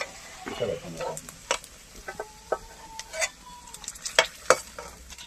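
Pork fat frying and rendering its oil in a pan, sizzling steadily at close range with a scattering of sharp pops and spatters and the scrape of stirring.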